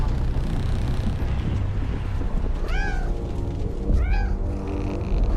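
Two brief cat meows, a couple of seconds apart, rise over a dense, noisy backdrop of rumble and clatter in an animated zombie action scene.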